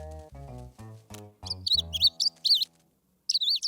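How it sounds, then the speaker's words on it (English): A cartoon baby bird gives a series of high, quick chirps and trills, following lower tonal voice-like sounds, with short gaps between bursts. "I have to take care of the baby bird."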